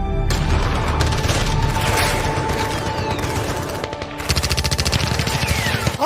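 War scene gunfire effect: dense, continuous bursts of rapid machine-gun fire and rifle shots with occasional booms, loud and close for the whole stretch.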